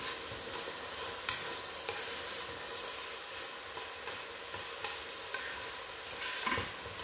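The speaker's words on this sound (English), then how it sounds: "So Right now we saute our onions." Onions sautéing in a pan for beef stew, a steady close sizzle with faint periodic scrapes and taps of a stirring utensil, no talking.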